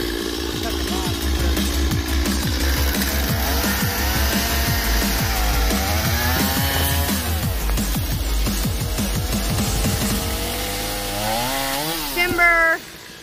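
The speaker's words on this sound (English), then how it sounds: "I'm gonna chainsaw this arm" A chainsaw drones loudly and continuously, its pitch dipping and rising as it bites into a tree branch, with voices faintly audible underneath.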